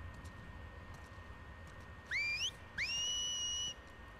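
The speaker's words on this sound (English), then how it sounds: "I have PTSD with those whistles." Two rising whistled signals from enemies in The Last of Us Part II, a short upswept whistle followed by a longer sustained one, clear over a low game ambience.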